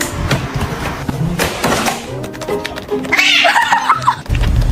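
A cat meows loudly and close, with drawn-out, wavering calls standing out over background household noise and some brief talk.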